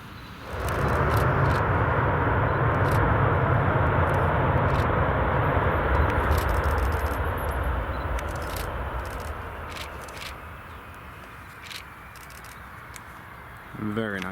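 An EasyJet airliner arriving from Amsterdam roars in to land, a loud broad jet rumble that slowly fades, with intermittent clicks and a brief voice near the end.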